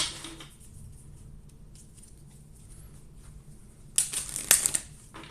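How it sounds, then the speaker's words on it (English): Playing cards shuffled back into a deck during a Marvel Villainous tabletop board game, heard as a brief crisp riffling burst near the end after quiet room tone, close and fairly loud. "shuffled back in the deck."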